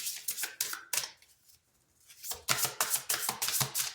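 A deck of cards is shuffled by hand in quick riffling bursts, a run of crisp flutters, a brief pause, then another steady series of snaps, close and fairly quiet with no talk.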